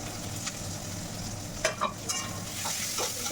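Chopped garlic, green chili, ginger and onion sizzle in hot oil with a steady frying hiss, broken by a few sharp stirring scrapes and pops near the middle.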